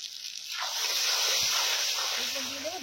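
A spoonful of MDH chicken masala hits hot oil for a village-style chicken curry, bursting into a loud, steady, close sizzling hiss after a brief quiet start; a faint voice surfaces near the end.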